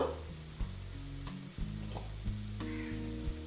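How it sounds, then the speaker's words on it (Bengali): Kashmiri red chilli powder sizzles in a frying pan while a yardlong bean (borboti) dish cooks: a quiet, steady sizzle, broken every second or so by a sharp scrape or tap of the stirring spoon, with no voices. "তারপরে আমি দিচ্ছি কাশ্মীরি লাল লঙ্কার গুঁড়ো এটা কালারের জন্য"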